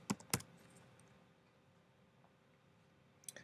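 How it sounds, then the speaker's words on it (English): Short bursts of typing on a computer keyboard: a quick cluster of clicks at the start, a long quiet stretch, then a few more keystrokes at the end, close and fairly soft. "Type in Abraham Lincoln"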